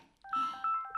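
A telephone rings late at night in short electronic tone bursts, two or three quick repeated beeps, close and clear with nothing else over them.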